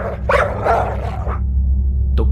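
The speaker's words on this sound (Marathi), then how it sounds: "त्यांना अचानक त्या जंगलामधून कुत्र्याचा भुंकण्याचा आवाज येऊ लागला" A dog barks in a forest, two or three close, loud barks in quick succession over a low steady rumble, then one more short yelp at the end.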